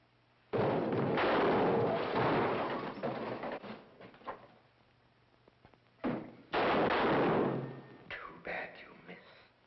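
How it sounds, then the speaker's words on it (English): Two bursts of gunfire in a tense confrontation, each a loud broadband blast with a long rumbling decay, separated by quieter stretches with faint thumps and murmured voices. "Those were your last 2 shots."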